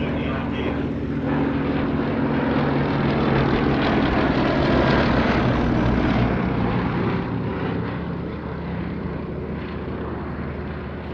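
Westland Lysander propeller aircraft at the Shuttleworth evening airshow, a loud, steady engine drone passing close overhead and easing slightly toward the end, with a commentator's voice faintly underneath.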